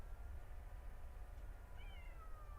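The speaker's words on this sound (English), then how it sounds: "now the cat is coming around here to scream and holler at me" A cat meows once from nearby, a short rising cry over a steady low rumble in a garden greenhouse setting.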